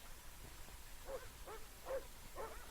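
Sled dogs on an Arctic polar expedition bark and yip in a few short, repeated bursts, moderately distant over a steady background hum, with no talking.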